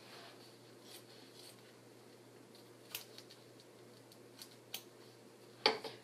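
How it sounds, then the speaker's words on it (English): Applique scissors snip around fabric on an embroidered troll girl peeker applique, a few soft scattered cuts spread through a quiet room, with one sharper snip near the end. "I'm going to cut out around that, again, using my applique scissors."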